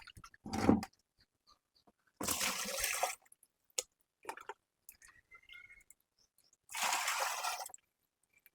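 Water is poured and stirred into a homemade liquid fertilizer for garden plants: three separate splashing bursts, close by, with quiet gaps and small clinks between them and no talking.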